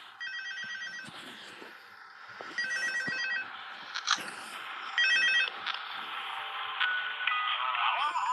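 An old telephone rings repeatedly during night 3 of the horror video game Five Nights at Freddy's 2, bursts of trilling bell tones recurring in a steady pattern over a continuous droning game ambience, with no talking over it.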